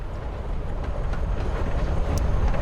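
Steady rumbling rattle of a freight train ride in Life Is Strange: Before the Storm, a continuous low clatter and roar at even loudness with no talk.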